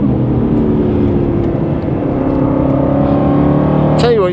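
An Aston Martin Vantage racing car pulls away hard, its loud engine rising steadily in pitch through the gears, close and dominant, with a sharp shift or squeal at the very end.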